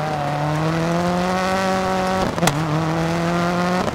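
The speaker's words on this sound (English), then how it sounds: "You need to brake much earlier for this downhill gravel turn." A rally car in DiRT 4 holds a loud, steady engine note, then brakes sharply into a downhill gravel turn, with a short burst of skidding noise before the engine picks up again.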